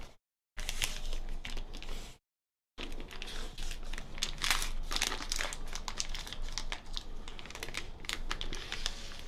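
Vinyl transfer tape peels away from a freshly applied vinyl stencil in a series of crisp crackling, crinkling bursts, close and fairly loud, with two brief silent gaps near the start before the peeling continues steadily.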